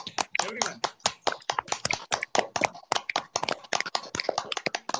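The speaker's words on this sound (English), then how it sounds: "you have to clap as if you have won the lottery" A group at a Thursday satsang session claps together, a dense, continuous patter of many hands for several seconds, with fairly close, lively claps.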